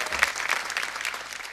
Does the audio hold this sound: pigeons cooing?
no